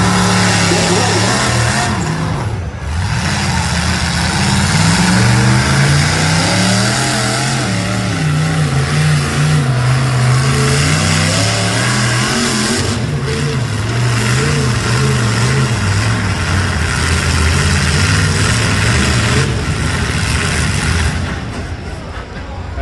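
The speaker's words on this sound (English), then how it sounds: "That's a lot of sled for that truck." Heavy truck engine straining as it drags a weighted sled down the track at a county fair truck pull, a loud, steady roar with pitch rising and falling over about twenty seconds, announcer voices faintly underneath.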